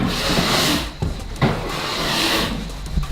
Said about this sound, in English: Sanding is almost done.